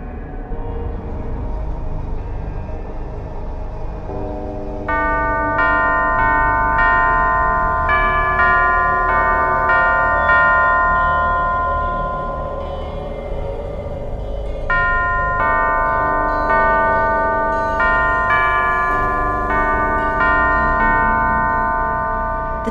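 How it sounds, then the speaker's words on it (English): Sequence of bell tones struck one after another in Alice: Madness Returns, ringing clear and loud over a steady low background hum, in two runs of chiming notes. "Only by playing the correct sequence of bells can it be opened."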